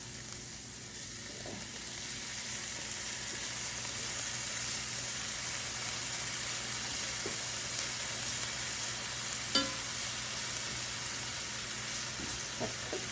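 Garlic frying in a pan, a steady close sizzle that runs unbroken with a few faint clinks and stirs, no voices.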